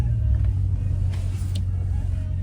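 Widebody Dodge Challenger pulling up, a low steady engine rumble heard from inside the car, fairly loud and continuous, with faint background noises over it.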